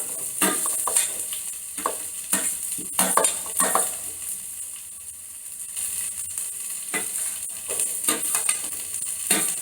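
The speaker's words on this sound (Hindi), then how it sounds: "जैसे ये पक गई है तो इसके बाद मैं डाल रहा हूँ इसमें मशरूम एंड बीन्स" Mushrooms and beans sizzle in a hot pan in a home kitchen while a utensil stirs and scrapes them in repeated bursts, close and fairly loud, with no talking.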